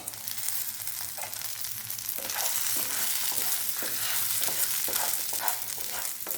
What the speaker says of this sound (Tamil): இது எல்லாத்தையும் ஒன்றா சேர்த்து ஒரு 2 நிமிஷம் நல்லா வதக்கிப்போம்